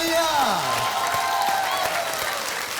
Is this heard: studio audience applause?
yes